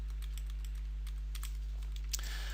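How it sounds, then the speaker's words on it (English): Computer keyboard arrow keys are pressed in a quiet series of light, irregular clicks over a steady electrical hum. "we can go up and down the joint chain by using the up and down arrows on our keyboard"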